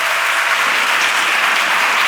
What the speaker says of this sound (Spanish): Yo creo que le podemos dar un aplauso final.